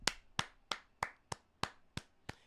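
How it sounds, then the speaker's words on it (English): Eight sharp hand claps in a slow, even rhythm, each one crisp and close, with short quiet gaps between them and no voices. "Give him a round of applause."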